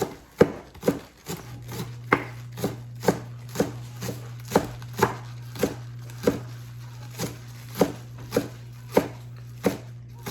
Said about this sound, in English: Let's chop it up. Make sure that it's diced.